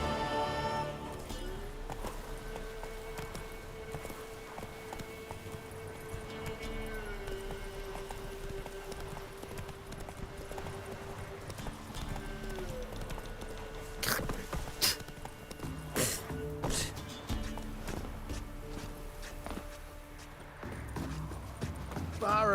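Horse hooves clip-clop at a gallop through The Witcher 3: Wild Hunt, steady and rhythmic, with game music tones and a few sharp effects layered over the running.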